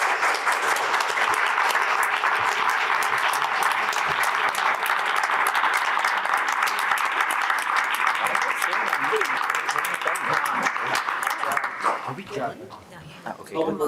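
Sustained round of applause from the audience at a township committee meeting, loud and steady for about twelve seconds before thinning out, with a voice starting to speak at the end.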